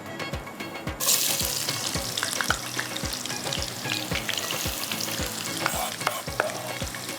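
Onions frying in hot oil or ghee, giving a loud, continuous sizzle close up, with regular scraping strokes of a spoon stirring the pan throughout.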